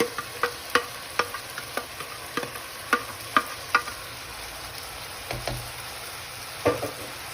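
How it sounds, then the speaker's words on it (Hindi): Fried noodles being tossed and stirred in a hot pan for chicken chow mein, a steady sizzle broken by a dozen sharp utensil scrapes and knocks at an irregular pace. "इन सबको अच्छे से मिक्स करने के बाद अब हम इसमें फ्राइड नूडल्स ऐड कर देंगे।"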